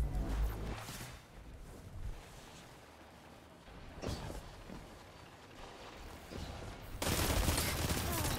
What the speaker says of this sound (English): Damn, that SMG is shredding me.